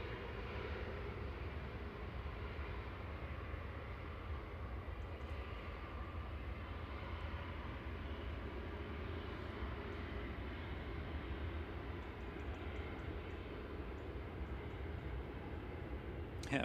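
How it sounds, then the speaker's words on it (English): A Boeing 787-9 Dreamliner taxiing out at Manchester Airport gives a steady, distant low rumble of jet engines that holds evenly throughout, with no voices. "A7BHV 787-9 Dreamliner, flight 22, taxiing out, heading off to Doha."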